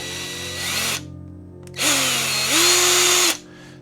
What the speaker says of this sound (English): drill out the centers